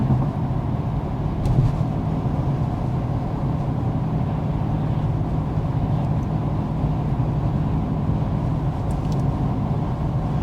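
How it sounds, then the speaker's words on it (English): Inside a 2024 Audi A5 Sportback cruising at 55 mph with the climate fan on its lowest setting, a steady low road and engine hum fills the cabin evenly, without a break. "Now that Mason has sped up to 55 miles an hour, it's time to get our signature Car Confections sound level reading."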